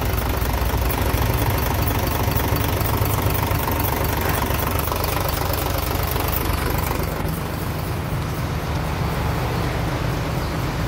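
A Fuso Fighter wing van's fully mechanical 6D16 diesel engine idles loud and close, a dense, even clatter with a steady knocking rhythm that runs on without a break.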